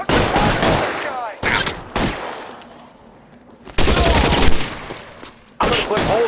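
Gunfire in the video game L.A. Noire, several bursts of loud rapid shots separated by quieter gaps, with a sustained tone and background game sounds between volleys.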